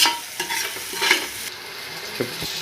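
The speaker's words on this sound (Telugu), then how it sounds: "వేసుకున్న తర్వాత ఒకసారి మొత్తం కలుపుకోవాలి." Chopped onions being mixed into hot oil in a pan for chicken pulao, a dense close sizzle with quick scraping and clattering strokes of a spoon, loud and continuous, no voices.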